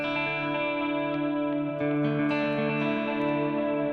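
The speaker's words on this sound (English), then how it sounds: "one reverb going with the quarter notes, and on the other side we have another reverb going with the 8 notes" Sustained clean guitar chords ring out washed in layered, shimmering reverb and echo, one reverb timed to quarter notes and another to eighth notes, with a new chord entering midway; no talking.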